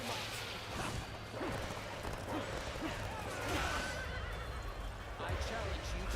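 A horse neighs in a ninja-themed video game, a whinny rising over hoofbeat-like clip-clops, whooshes and impacts in busy game audio, with a voice talking over it.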